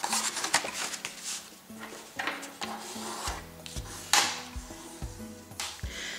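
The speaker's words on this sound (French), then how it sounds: "je vais marquer, en utilisant ma planche Scorpal, un pli à 10 cm" A tool rubs and scrapes across white paper laid on a Scorpal scoring board to mark a fold. Close, faint strokes mix with soft taps and light handling noises.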